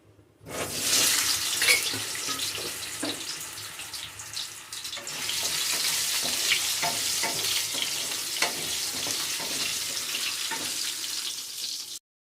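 Potatoes fry in a pan for a coriander-chili potato curry, a steady bright sizzle running continuously after a short quiet start, with scattered clicks and scraping of stirring and no talking.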